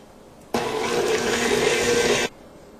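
A steady motor whirs while egg yolks and grated lemon rind are stirred into a butter-sugar mixture for lemon bread. The loud, even drone starts abruptly, holds for under two seconds, then cuts off.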